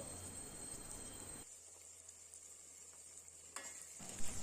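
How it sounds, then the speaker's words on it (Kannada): Vegetables and dill leaves for uppittu fry in a pan, a quiet sizzle with a soft stir that drops to a low hum midway and then returns, with no voices. "ಇದೊಂದು ಸ್ವಲ್ಪ ಹಸಿ ವಾಸನೆ ಹೋಗೋವರೆಗೂ ಹುರಿಯೋಣ"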